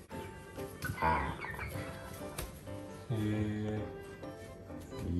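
Domestic chickens clucking near the microphone in a series of short, uneven calls that rise into a louder run of clucks toward the end, with some background voices mixed in.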